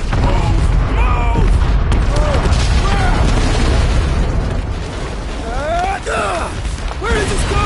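Explosions in the action video game Marvel's Guardians of the Galaxy: loud, sustained rumbling blasts and bursts that fill the scene while characters shout over the chaos.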